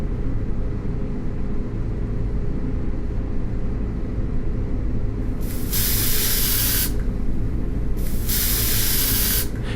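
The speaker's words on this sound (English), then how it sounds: "check to ensure that the spray guns function optimally" Industrial spray guns in a Flatbed UK 8317 wood-treatment system spray liquid in two loud hissing bursts, each lasting about one to one and a half seconds, over a steady low machinery rumble.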